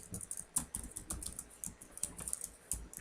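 Computer keyboard typing while an SQL query for the maximum salary is written: quick, irregular clicks and taps with short pauses, close and moderately loud, with no voices.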